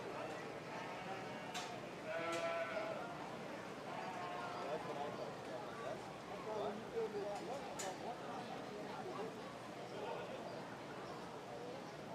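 Hampshire ewes bleat a few times amid the hubbub of a county 4-H fair sheep show, with hooves shuffling on the ground. People talk throughout and crowd noise fills the background.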